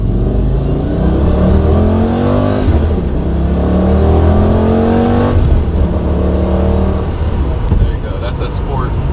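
A Lamborghini Gallardo in sport mode accelerates hard and loud, its engine pitch climbing through rising sweeps broken by quick gear shifts, continuous and close throughout.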